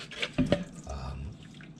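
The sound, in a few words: water draining from soaked grass seeds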